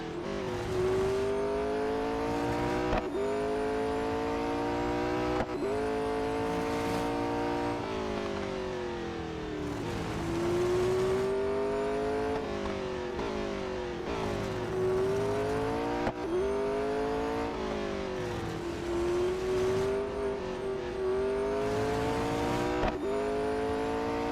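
A Porsche Mission R race car in Real Racing 3 holds a loud, continuous engine drone that climbs through the gears, with repeated upshift dips and revs, close and sustained throughout, no talking.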